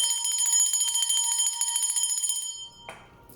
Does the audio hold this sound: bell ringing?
yes